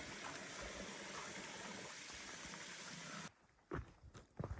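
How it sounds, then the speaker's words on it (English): A babbling brook beside a campsite on the Appalachian Trail, a faint steady wash of flowing water that cuts off abruptly partway through, followed by a few soft knocks and rustles. "And we get a nice babbling brook right next to our campsite."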